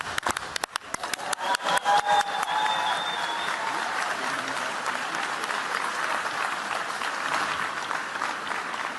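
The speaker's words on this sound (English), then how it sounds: "if you're special and you know it, clap your hands" An audience at the Ig Nobel Prize ceremony in Boston bursts into applause, beginning with a few sharp separate claps that quickly swell into dense, steady clapping and hold at full volume to the end.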